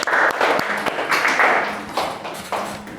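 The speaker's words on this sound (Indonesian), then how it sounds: "Tepuk tangan buat kalian semua." A classroom of students claps together in a short, uneven burst of applause, close and fairly loud, fading out within a few seconds.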